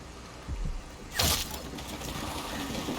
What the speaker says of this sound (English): Maybe I can destroy it with a crossbow bolt.